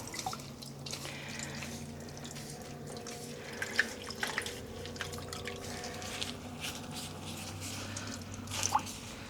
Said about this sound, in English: And I'm squeezing out the water.